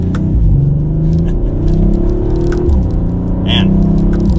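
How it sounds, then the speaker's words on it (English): A 2021 Audi RS5 Coupe accelerating on the road, its exhaust giving a deep rumbling drone that rises in pitch, with a brief burble near the end, heard from inside the car. "you hear those little rumbles in the exhaust"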